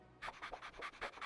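A cartoon dog pants in quick, rhythmic breaths, about eight close, even huffs in a row.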